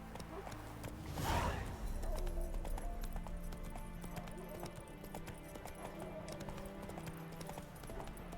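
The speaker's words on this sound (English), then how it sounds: "Run, Roach." A horse gallops with rhythmic clip-clop hoofbeats in The Witcher video game, steady and close, with a brief whoosh and snort early on over game ambience.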